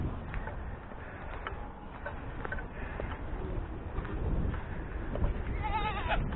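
Farm goats bleat for food in the yard after a snow storm, a few wavering calls rising out of steady outdoor background noise at a moderate distance.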